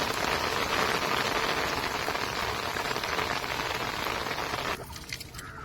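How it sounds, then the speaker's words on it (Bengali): Heavy rain falls hard in the Sundarbans during fishing with nets, a dense, loud, steady roar of drops that drops off suddenly near the end to quieter dripping and splashes. "বৃষ্টি কিন্তু খুব জোরালো হচ্ছে"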